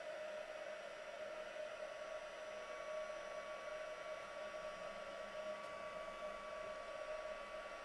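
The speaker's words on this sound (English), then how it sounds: "I'm just going to heat from underneath because I want it a little bit smoother" A handheld heat tool blows steadily beneath a craft piece, a constant close whirring rush of air and fan hum with no breaks.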